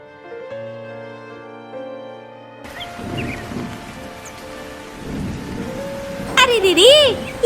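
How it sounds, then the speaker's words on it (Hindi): Rain falls steadily in an animated cartoon set in cold weather, entering after soft music and continuing as a dense patter with rumbling thunder, and a voice speaks at the end. "अरे दीदी, ये तो ठंड में बारिश की बूंदे"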